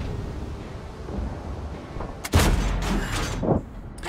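Tank cannon shot in a World of Tanks-style video game: a single loud, sharp boom erupts partway through after quiet ambience, with a rumbling tail and a second softer blast shortly after.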